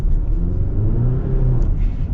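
The 2.7-liter engine of a 2024 GMC Canyon AT4 mid-size pickup, rated at 430 pound-feet of torque, rumbles as the truck accelerates. The drone is loud, close and steady, and no one speaks over it.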